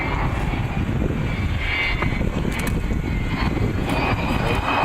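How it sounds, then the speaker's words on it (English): The Avro Vulcan XH558 bomber flies past slowly with undercarriage up and gently accelerates away, its jet engines a broad, steady roar that fills the air, loud and sustained throughout. "They've cleaned her up for a slow fly past, cleaned her up, they've got the undercarriage up, and just gently accelerating away."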